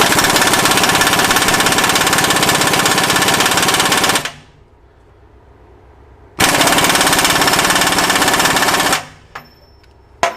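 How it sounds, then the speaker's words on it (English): A Myers MTS53371 pneumatic air impact wrench hammers loudly and continuously in two long close bursts of rapid rattling blows, separated by a quiet pause, ending with a brief final hiss. "this small pneumatic impact wrench"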